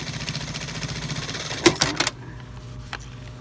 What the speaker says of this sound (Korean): 다시 한 번 더 박아야 될 것 같아요